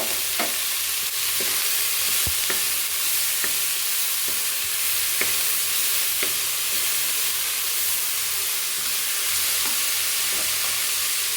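Grated ginger sizzles and fries in a pan while making gorikayi gojju, with steady close frying hiss and occasional stirring clicks, no talking.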